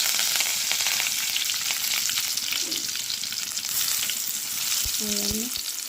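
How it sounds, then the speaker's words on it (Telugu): Onions and curry leaves fry in a pan with a steady, loud sizzle throughout, and a brief tonal clink sounds near the end. "ఆనియన్ చేసుకొని బాగా ఫ్రై చేసుకున్నాం అండి ఆనియన్స్తో పాటు కరేపాకు కూడా వేసుకున్నాం"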